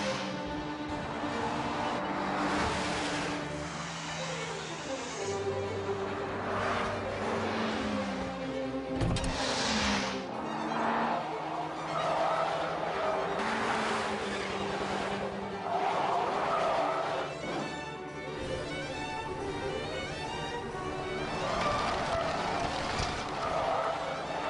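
Mitsubishi Evo X racing over a loose gravel road in gravel mode, its engine droning steadily and rising and falling through gear changes, with tyres scrabbling and skidding on the loose surface close by throughout.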